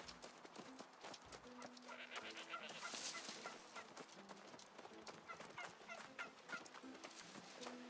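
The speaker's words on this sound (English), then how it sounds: "Goddamn turkeys." Turkeys in the video game New World gobble in repeated rattling bursts amid busy farmyard ambience, with faint hoof-like clopping mixed in.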